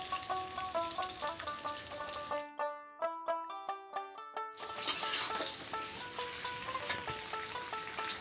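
Green chillies sizzle in a pan of oil for a Bengali chara pona fish curry. A steady frying hiss fills the start and end, with a clear stretch of background music between.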